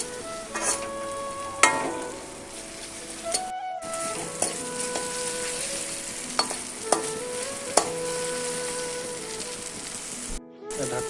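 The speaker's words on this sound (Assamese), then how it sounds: "লৰাই দিছোঁ" Potatoes sizzle as they fry in a pan, stirred with repeated scraping and clinking against the metal, over a steady close frying hiss, with no speech.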